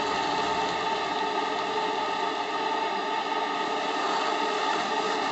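A JLS 13-2 live steam model locomotive starting off slowly, giving a steady, continuous hiss and mechanical hum at even loudness with no clear chuffing beats, no speech.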